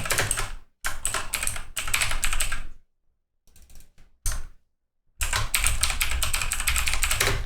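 Rapid typing on a computer keyboard, close and clear, in dense bursts of clicking separated by short pauses, with a long continuous run of keystrokes at the end.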